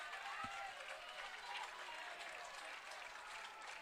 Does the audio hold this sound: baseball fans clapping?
yes